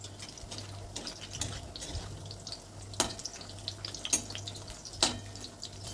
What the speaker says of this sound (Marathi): इथं तेल तापले आपलं, तेलात आपण एक सोडून घेऊया आणि हे मीडियम गॅसवर आपण तळून घेणार आहे.